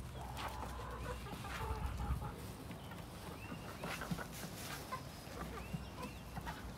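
Chickens cluck in short, scattered bursts, some near and some farther off, over a soft outdoor farmyard background.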